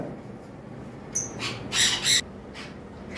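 A pair of lovebirds in a cage gives a few sharp, high squawks in quick succession, close by and fairly loud over a quiet background, with a fainter chirp trailing after.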